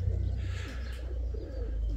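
Soft, low pigeon coos blend with a steady low hum, with a faint airy hiss in the background and no talking.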